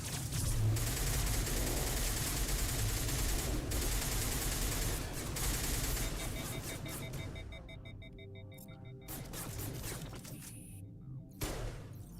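Sustained gunfire in the video game Mass Effect Legendary Edition, a dense continuous barrage of shots mixed with game effects and music, fairly steady throughout before thinning out near the end.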